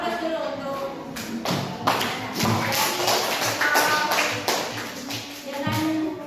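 A class applauding in a classroom during a group discussion, with dense clapping running steadily throughout at close range, while faint voices sit underneath.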